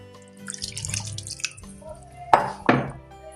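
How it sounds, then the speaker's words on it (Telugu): Water poured into a simmering potato kurma curry in a pot: a soft trickle and drips, then two sharp splashing clinks against the vessel, nearby and fairly loud. "ఇప్పుడు కొన్ని వాటర్ వేసుకున్నాము"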